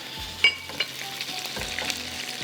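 Garam masala spices crackle and sizzle steadily in hot oil with a few sharp pops, close by, with light stirring clinks underneath.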